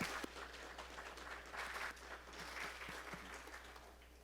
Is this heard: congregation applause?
yes